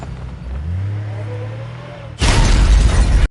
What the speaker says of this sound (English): On the way on a bridge, the car was hit by a missile.